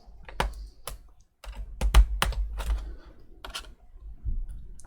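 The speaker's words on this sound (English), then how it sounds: "Now we need to take the keyboard out because it's an old style laptop." Keyboard being pried and lifted out of an old Dell Inspiron 15R laptop during repair, a series of sharp plastic clicks and snaps with a short pause, close and fairly loud against a low room rumble.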